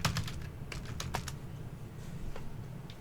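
Quick bursts of typing on a computer keyboard, with clusters of light clicking keystrokes separated by short pauses, fairly quiet and close.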